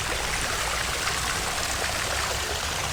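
Water runs in a town fountain in Rokiškis, Lithuania, a bright, steady splashing rush close by, even and unbroken throughout with no voices over it.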